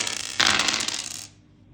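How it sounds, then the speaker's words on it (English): Dice clatter onto a hard surface during a maths board game, a bright rattling burst lasting under a second that then stops cleanly, close and fairly loud with no talking. "So both players will roll the dice."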